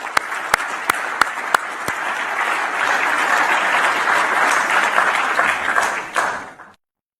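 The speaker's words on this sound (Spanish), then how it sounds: "Un aplauso para ellas." Sustained applause from a public audience at a presidential address, a few sharp isolated claps at first swelling into a dense, steady wash of clapping that fades out near the end.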